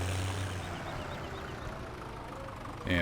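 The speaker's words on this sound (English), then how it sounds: "Alright, let's just back the tractor right over here." A tractor engine in Farming Simulator 17 rumbles at a low, even idle while backing up, fairly quiet, with a brief louder mechanical clunk right at the end.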